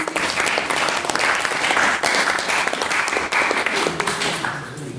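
Hall audience at a school debate claps for a speaker who has just finished, a full, continuous round of many hands, strong and even before easing slightly at the end.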